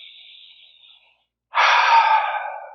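Deep meditative breathing during a guided spiritual session: a soft, airy exhale fades out, and after a brief pause a loud, close inhale rushes in and holds.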